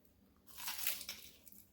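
A single crisp crunch of biting into a fried crab rangoon wonton, short and close, with no talking.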